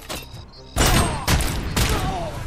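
Gunfire and heavy impacts in the Robocop Rogue City video game, a few loud bursts in quick succession with a dense, rumbling spread of sound.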